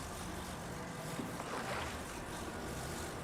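Whooshing air gust effect in a sandy video game town, a steady broadband rush of wind that swells slightly midway, continuous and fairly loud with no voices over it.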